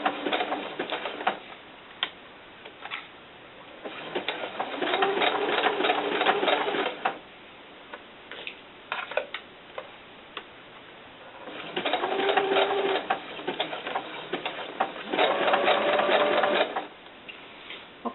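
A sewing machine stitches fabric for a doll cover in several bursts of rapid, buzzing clatter separated by quiet pauses, close up, with soft birds cooing in the background.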